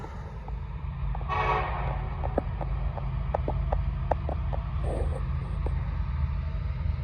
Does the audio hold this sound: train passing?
yes